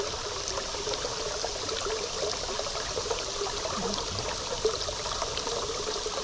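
Water flowing in a cold spring stream, a steady close rush and trickle with no voices.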